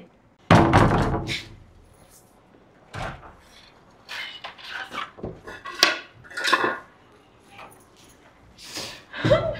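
Plates and dishes clatter as they are dropped in a home, a loud burst of hard knocks and rattles followed by scattered thuds and clinks, with voices talking between the impacts.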